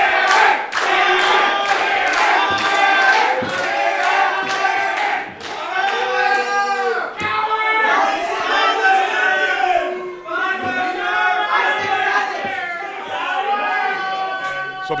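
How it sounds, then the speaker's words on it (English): Crowd at a live wrestling title match chants and yells in loud rhythmic waves, many voices close and raucous, with shouts rising and dipping throughout. "this crowd's not being quiet"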